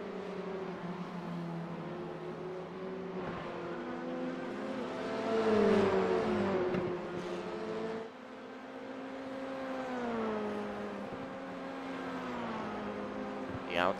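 Race cars battle for third place on a circuit, with engine notes rising and falling as they rev and shift, a sustained droning whine that swells briefly louder as cars pass, heard at a moderate distance.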